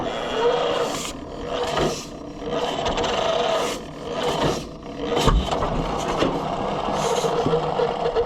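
A John Deere G tractor's starter cranks the engine with choke applied, a rough, grinding mechanical rasp running continuously with uneven surges in loudness, close and loud throughout.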